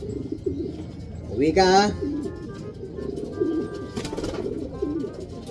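Racing pigeons coo softly and repeatedly in a loft, low murmuring calls layered under someone speaking close by, with one brief brighter call rising in the middle.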